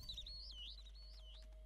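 A small bird-like creature in Spore gives a warbling, swooping chirp that rises and falls in pitch for about a second and a half, clear and close over a low steady hum.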